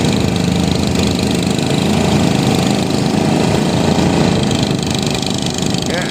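A generator runs steadily and loudly at a riverside construction site along the Pasig River near Fort Santiago, where steel piles are being driven. It gives a continuous engine drone with a rough, knocking texture and no breaks.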